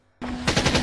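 Rapid automatic gunfire in a film action scene, a special forces team under heavy enemy fire: a sudden loud burst, then a dense rhythmic rattle of close shots with no speech.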